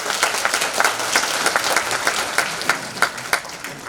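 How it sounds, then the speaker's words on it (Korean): Steady, lively applause from a rally audience greeting a national assemblyman, with dense, even clapping sustained throughout, near and fairly loud, with hardly any talk. "여러분 박수 부탁합니다"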